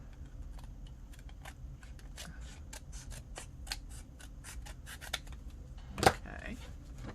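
Scissors snip and trim paper for a handmade garden fairies pocket journal, a run of quick, crisp cuts in steady rhythm close by, ending with one louder, sharper snip.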